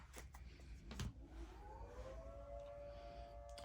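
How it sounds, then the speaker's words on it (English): A civil defense siren wails outdoors at a distance, rising and holding a long steady tone, faint beneath room ambience with a few soft knocks and bumps nearby. "I say that and a siren goes off."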